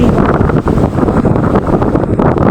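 Strong wind roars across a microphone out at sea during a stretch of rough weather, with a heavy rumble of waves beneath it. The sound is loud and constant, with no voices.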